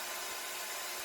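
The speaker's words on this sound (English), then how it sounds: "I had quite a bit of bandsaw work to cut all these shapes out" A bandsaw cutting out small wooden shapes, a steady bright rasping whir of blade on wood that stays loud and even for a short moment.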